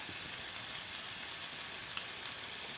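Green chillies and curry leaves sizzle in hot oil alongside frying prawns, a steady, soft, close crackle with small pops and no talking.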